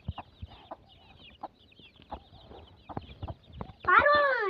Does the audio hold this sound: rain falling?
no